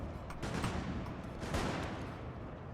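Dense volleys of musket fire and booming artillery roll on continuously in a Total War: Napoleon battle, a thick, even wash of distant fusillade with a few sharper cracks standing out, no voices heard.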